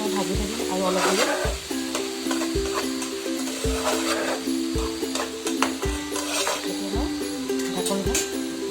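Chicken pieces sizzling in hot oil in a pan, loud and near, broken by evenly spaced scrapes and knocks of a spatula as the meat is turned over and over.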